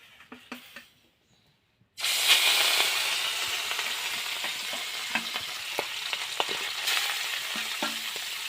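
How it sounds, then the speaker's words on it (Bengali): Oil hits a hot wok at a village kitchen while cooking rohu fish with radish and eggplant, bursting into a loud, steady sizzle after a quiet start, with small clinks and stirring crackles over the continuous frying hiss. "কড়াই গরম হয়ে গেছে, তেল দেবো।"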